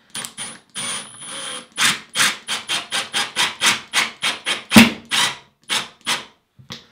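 A screwdriver drives 1.5 inch wood screws into a bathroom wall stud, giving a close series of rhythmic grinding, rasping bursts with short pauses between them and no talking.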